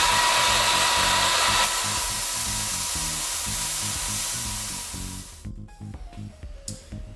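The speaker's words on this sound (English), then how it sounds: "I'm going to use a very coarse belt on my belt sander." A belt sander fitted with a very coarse belt grinds a steel taper for a tuning fork, a loud, steady abrasive roar that runs for several seconds before the motor winds down.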